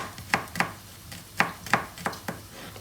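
Vegetables are chopped with a knife on a kitchen board, six crisp, close knocks coming in uneven pairs with short pauses between, alone without talking.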